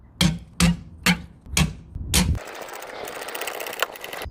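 Five loud, evenly spaced bursts from an impact wrench or gun loosening the nuts on a car's rear wheel, followed by a steady whirring rattle of a nut spinning off, close up.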